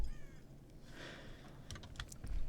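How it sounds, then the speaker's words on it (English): Crows caw now and then in the Overlord game world, a couple of faint, scattered calls over quiet ambience alongside some soft clicking. "All we can hear is the crows every now and then."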